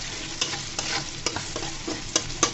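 Onion frying with nigella seeds (kalonji) while being stirred for a drumstick-leaf (sajna shak) dish: a steady close sizzle broken by sharp utensil scrapes at irregular intervals, with no talking.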